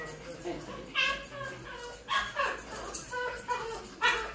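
A dwarf spitz dog whimpers and yips in short, rising bursts during scissor grooming, while someone speaks calmly over the cries at close range.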